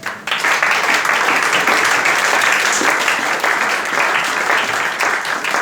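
A church congregation applauding during a French-language sermon: steady, loud, dense clapping that holds for several seconds without letup, no talk.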